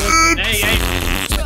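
A loud, short fart with a buzzy, sputtering rumble right at the start, followed by a mixed background of music and chatter in a GTA roleplay game setting.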